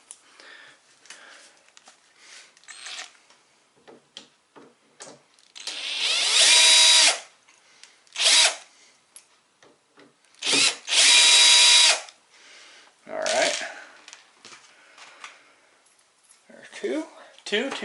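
A power drill backs Phillips screws out of a rack in a few loud bursts of whirring, each lasting about a second, with clicks and handling noises between them.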